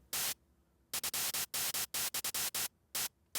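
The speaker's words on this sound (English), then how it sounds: "or a bright white noise on top" Bursts of bright hissing white noise synth layer switch on and off in a choppy, rhythmic gated pattern, loud and alone.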